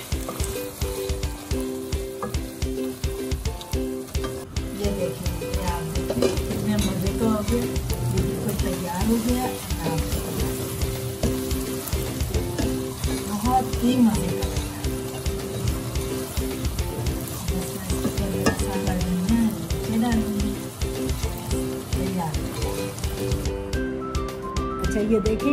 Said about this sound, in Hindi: इनको टमाटरों को बस जब तक भूनना जब तक ये गल ना हो जाएंगे